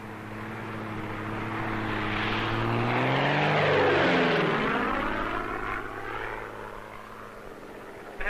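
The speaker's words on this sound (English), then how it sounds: "This plane, operating from a weather research base in Montana, is about to perform an experiment on a cloud." A weather research plane flying from a base in Montana on a warm August afternoon, its propeller engine drone swelling as it approaches, peaking overhead with a Doppler pitch shift, then fading away; no talk.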